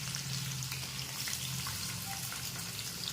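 Boiled potato and green chillies sauté in hot oil in a pan, giving a steady, soft, close sizzle with faint scraping stirs and no talking.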